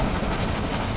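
A train rolling along rails in a Roblox game, a dense continuous rumble with a steady rhythmic clatter, loud and close with no talk.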